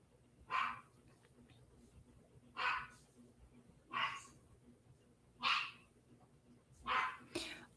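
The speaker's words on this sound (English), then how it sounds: "I have to go check on this dog" A dog barks five times at a nearby spot during a live stream, single sharp barks spaced about one to two seconds apart over a quiet room hum.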